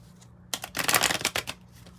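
Oracle cards from a 108-card deck are shuffled in a quick, close run of papery riffling and flicking that swells loudly mid-way and then tapers off.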